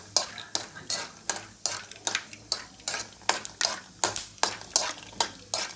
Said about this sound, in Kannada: ಶೇಂಗಾ ಚೆನ್ನಾಗಿ ಹುರ್ಕೋಬೇಕು